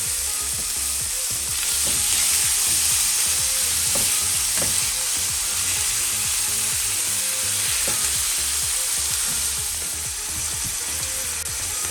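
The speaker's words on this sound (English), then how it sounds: "Then you can add your meat. Start sizzling that baby up." Steady, loud sizzling of meat frying in a hot oiled pan for Philly cheesesteak filling, with occasional stirring scrapes and no talking.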